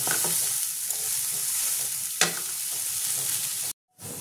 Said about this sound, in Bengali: পেঁয়াজটাকে একটুখানি হালকা ভেজে নেব